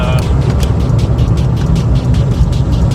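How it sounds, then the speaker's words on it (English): A Ford Fiesta Mk6 TDCi diesel fitted with a Focus RS intercooler drives along, a steady loud engine drone and road rumble filling the cabin for the whole stretch. "just going for a quick drive, make sure no boost pipes pop off or anything like that"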